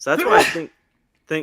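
A single sneeze bursts out in the middle of casual conversation, close and loud, with people talking just before and after it.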